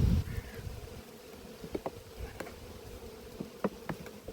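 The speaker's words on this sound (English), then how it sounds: "there's a bit of angsty noise now, but that's because of all the bees" A steady drone of bees around a hive at an apiary fills the background while sharp clicks and knocks pop in at irregular intervals, close by.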